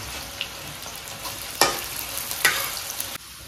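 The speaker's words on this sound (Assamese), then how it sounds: "সৰুকৈ পিঁয়াজখিনি কাটি লৈছিলোঁ এইখিনিতে আমি ধুনীয়াকৈ ভাজি ল'ম" Finely chopped onions frying in hot mustard oil make a low continuous sizzle, punctuated by two or three sharper scraping stirs near the end, heard close with no talking.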